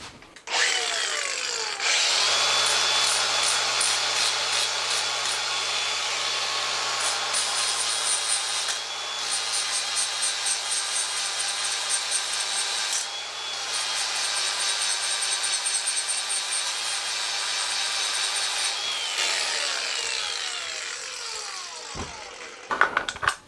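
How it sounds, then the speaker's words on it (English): A grinder works on the top of the axle threads of a 1962 KTM Ponny scooter wheel during restoration, a steady loud whirring grind lasting about twenty seconds with brief dips in pressure, then spinning down, close and without talking. "So I will grind a little bit off from there and make sure that there is nothing holding it back."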